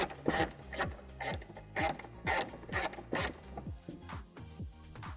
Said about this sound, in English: that's the 10mm bolts that are holding this in. So you wanna go ahead and do these right there.